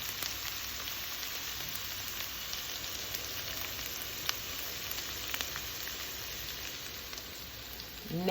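Cabbage and mixed vegetables cook in a pan with a soft, steady sizzle and scattered small crackles throughout, with no voices.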